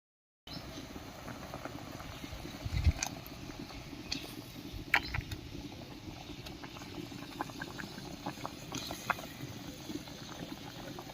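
A pot of curry made with shola kochu (giant taro) bubbles at a steady boil, a continuous soft patter of popping bubbles that stays close and even throughout, with no talking.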